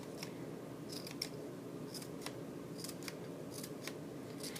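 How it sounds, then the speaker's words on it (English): Scissors snipping partway into a strip of paper for a craft project: a steady series of small, crisp clicks and snips, close but fairly quiet over a low room hum, no speech. "with my strip of paper, I'm going to cut a little cut, not going all the way through the strip"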